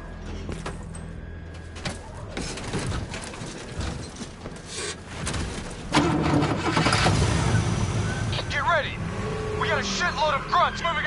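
A vehicle engine starting up in Call of Duty Black Ops zombie mode, cranking and catching into a mid-pitched running rumble that holds steady, amid gunfire, clatter and shouting voices.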